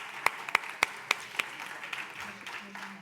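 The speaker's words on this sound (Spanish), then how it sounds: "Un aplauso para ellas" Five sharp, evenly spaced claps ring out at a session on 15-minute cities and time policies. The claps come close together, then give way to a quiet room with a faint low hum.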